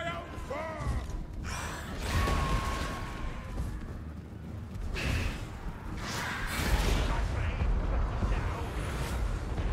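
Artillery cannon shot in Total War: Warhammer 2 during a troll battle, a booming blast amid dense rumbling battlefield noise, shouts and clashing sounds, heavy low thuds recurring through a continuous loud din.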